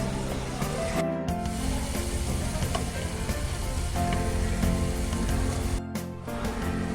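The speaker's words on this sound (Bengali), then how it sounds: "গ্যাসের ফ্লেম কমে রেখে এবার সব মশলাগুলো খুব ভালো করে কষিয়ে নিতে হবে" Ground chilli, cumin and turmeric fry over a low flame in a pan with onion and tomato, a steady dense sizzle that stays loud and close throughout, with a couple of brief dips.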